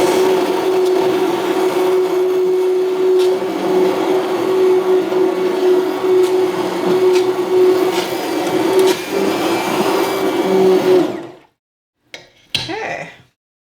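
A blender blending sauce: a steady mechanical whir with a constant motor hum runs loudly for about eleven seconds, then cuts off abruptly, followed by a short clatter.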